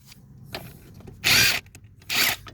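Ratchet or power tool working on Toyota Prius car seat bolts, two loud close buzzing bursts about a second apart, with faint handling clicks before them.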